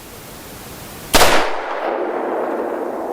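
A single loud, sharp report from a Ruger GP100 revolver firing a .357 Magnum round, followed by a long ringing decay with no talk.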